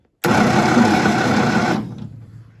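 A starter motor cranks an old engine on 12 volts with the ignition disconnected, a loud, steady whirring drone that starts abruptly, runs about a second and a half, then winds down and fades.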